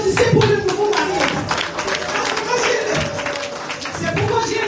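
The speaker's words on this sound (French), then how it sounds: "Donc applaudissez pour le nouveau marié." Applause from the gathered crowd at a wake, clapping hands dense and steady for a few seconds amid chatter and voices.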